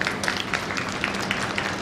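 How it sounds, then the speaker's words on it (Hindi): A crowd claps loudly and steadily at a devotional jagran at Shree Durga Mandir, applauding in honour of mothers, with a faint voice beneath. "एक बार अपनी अपनी मां के लिए जोरदार ताली बजा दी।"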